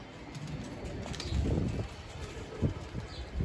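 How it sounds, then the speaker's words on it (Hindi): A pigeon flies in over a neighborhood rooftop loft, with a brief flutter of wings and faint soft bird sounds amid light outdoor background noise. "किसी का कबूतर है दोस्तों"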